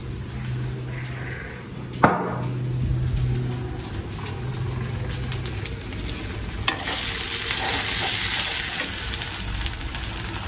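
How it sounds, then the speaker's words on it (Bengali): Spices fry for dal in a pan with a constant close sizzle. Stirring scrapes run through it, with a sharp utensil clang early on and another knock later. "ডাল ভান্না করে দিই এবং মশলা কষে দিচ্ছি"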